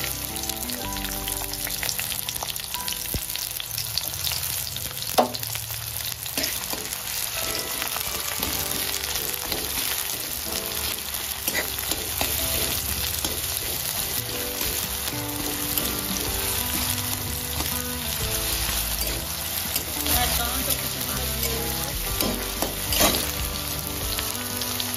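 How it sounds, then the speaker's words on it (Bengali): Chopped onions sizzle in hot oil in a wok, a dense continuous hiss of frying that stays steady throughout with occasional crackles and stirring scrapes, and no voice over it. "এখানে পেঁয়াজ কুচিগুলো দিয়ে দেব।"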